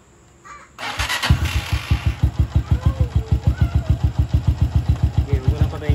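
A small underbone motorcycle (XRM110, Suzuki Smash, or Honda Wave type) cranks and starts after a kill switch install, then settles into a steady, close putt-putt idle with rhythmic exhaust pulses and a voice speaking briefly.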